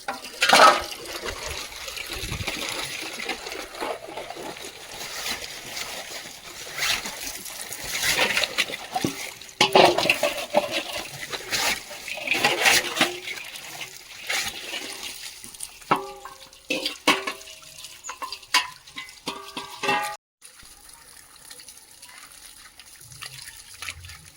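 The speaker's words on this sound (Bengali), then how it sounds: "কড়া ফড়া সব ধোয়া হয়ে যাচ্ছে এদিকে" Pots and pans being washed under running water outdoors, with steady splashing and gushing from a tap, clattering rinses in the second half, then a quieter trickle near the end.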